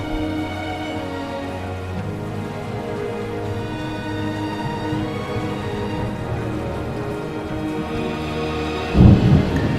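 Steady rain hisses and patters outdoors on the Rudranath mountain trek under a low rumble, with a sudden louder thud near the end.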